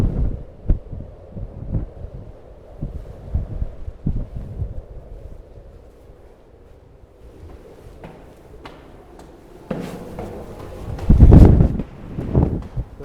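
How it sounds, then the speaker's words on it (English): Wind gusts buffet the microphone atop Sky Top Tower, a 1921 stone lookout on a mountain ridge, with low rumbling thumps throughout, a quieter lull in the middle, and a strong roaring gust near the end. "windy here"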